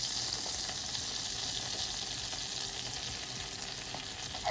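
Aleppo pepper sizzles in hot melted butter, a steady close crackling fry that holds even and fairly loud throughout, with no talk over it.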